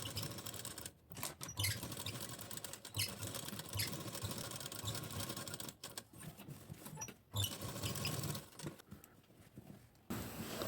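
A sewing machine stitches a blouse sleeve along its shaped outline, a steady quiet mechanical whir broken by several short pauses as the fabric is repositioned.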